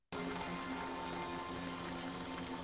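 Steady broadband rain hiss in The 7th Guest VR, a continuous wash of falling rain that starts abruptly and holds an even level throughout, with a low tonal hum of game ambience beneath it.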